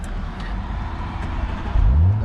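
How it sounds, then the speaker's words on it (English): A 2022 Audi RS4 engine cranks and fires near the end of a steady low rumble, rising into a loud, close revving surge. "The car starts for a few seconds"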